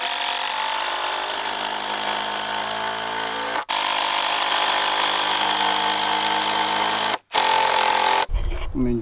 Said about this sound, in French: J'adore ma visseuse à choc.